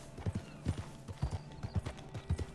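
A horse arrives in Red Dead Redemption 2 with a rhythmic clip-clop of hooves, fairly close and moderately loud, in uneven paired beats over a quiet background.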